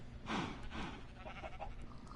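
Sheep in the Minecraft Bedrock video game give a pair of wavering bleats close by, followed by fainter softer bleats over steady game background sound.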